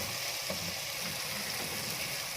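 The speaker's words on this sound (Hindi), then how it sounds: "तीन से 4 मिनट अच्छी तरह से मसाले को फ्राई करने के बाद" Ground spices sizzle and fry steadily in hot ghee for a Chakotry (grapefruit) sabzi, a dense continuous crackle with no voices.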